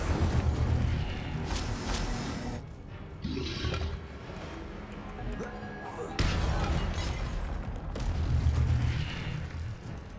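Incendio fire spell blasts in Hogwarts Legacy, several whooshing bursts and crackling booms over rumbling game ambience and combat sounds, with a spoken voice among them.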